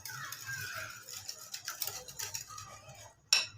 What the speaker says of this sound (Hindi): अब हम इसे अच्छी तरह से फेंट लेंगे।